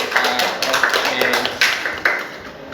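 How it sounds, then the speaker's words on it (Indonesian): Scattered hand clapping from a classroom audience after a student group's presentation, a brief ragged patter of a few claps over roomy background noise. "Beri tepuk tangan buat kelompok 4"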